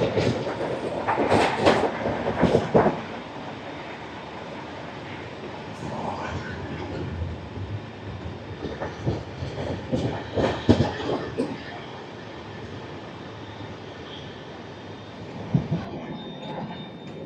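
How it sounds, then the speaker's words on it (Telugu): The Yesvantpur to Delhi Sarai Rohilla Duronto Express, train 12213, rumbles along the rails around a hill, with rhythmic clattering wheel beats rising and fading in bursts over a steady rolling drone. "కొండ చుట్టూ ప్రదక్షిణం చేస్తుంది మన ట్రైన్"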